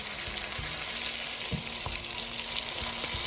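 Chicken frying and searing in a single pot, with a steady high sizzle throughout and a few soft clicks and taps of a utensil against the pot.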